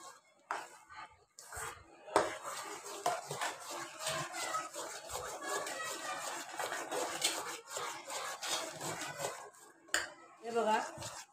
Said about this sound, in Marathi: हे बघा, चांगलं फास्ट ढवळून घ्यायचं।